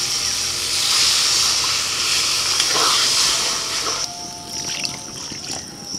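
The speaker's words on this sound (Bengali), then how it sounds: "এবার জল দিয়ে দিচ্ছি।" Water is poured into a hot pan of fried moong dal and spices, setting off a loud sustained sizzle and hiss that fades after a few seconds into softer bubbling, close to the pan.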